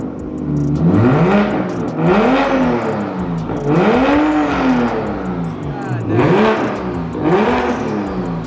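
A Toyota Supra's full titanium single-exit exhaust revs repeatedly, each rise and fall a loud, throaty sweep, roughly five blips in a steady rhythm close by.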